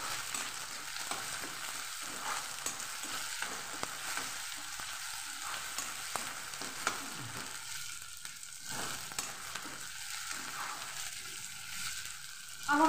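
Potatoes, onions and peas sauté in a pan for poha, a steady close sizzle with occasional stirring scrapes, constant throughout and never interrupted by talking.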